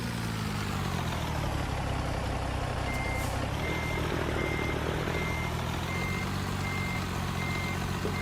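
A Peterbilt truck in American Truck Simulator reverses with a regular, evenly spaced backup beep over a loud, steady diesel engine rumble, with no voices.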